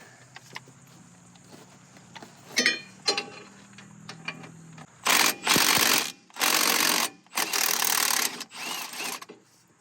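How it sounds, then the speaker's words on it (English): A ratchet wrench clicks and then whirs in several loud bursts, removing the four 14 mm bolts from the rear hub assembly of a 2014 Subaru Forester, close and without talk. "take the 4 14 millimeter headed bolts out of the back of the hub assembly"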